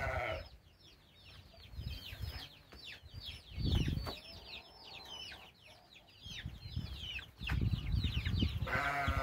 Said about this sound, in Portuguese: Olha aqui como é que tá aqui minhas galinhas,